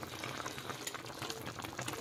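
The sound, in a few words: Jamaican-style steamed red snapper bubbling in pot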